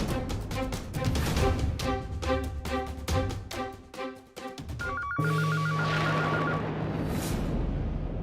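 Telephone ringing during a call in a Punjabi TV drama, a rapid repeating electronic trill in bursts, followed by a steady sustained tone and then near silence.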